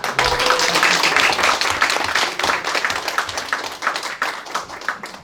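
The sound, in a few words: audience clapping to welcome a speaker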